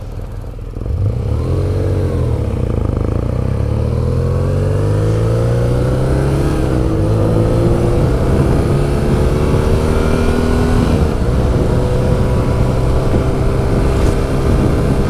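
A 2018 BMW Urban GS with a 110-horsepower opposed-twin oilhead engine and shaft drive, ridden at speed: a loud, steady engine drone with rising gear pulls and heavy wind rush throughout, no voices.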